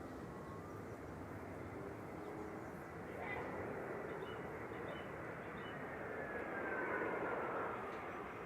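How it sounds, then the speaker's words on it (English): An EasyJet airliner on approach to Manchester Airport from Amsterdam makes a faint, distant, steady jet rumble that swells gently toward the end, with a thin whine threading through. "So this is EasyJet on approach,"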